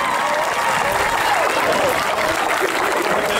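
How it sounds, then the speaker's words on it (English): Loud, continuous applause and crowd noise from an audience of parents at an evening team introduction event for the Greyhounds, steady from start to finish. "Big round of applause for them"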